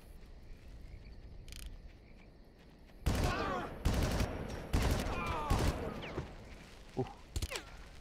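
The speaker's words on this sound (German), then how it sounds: "Und da wird geschossen." Gunfire in the video game Far Cry comes as a series of sharp bursts and single shots, moderately near, over a background of chirping insects and frogs.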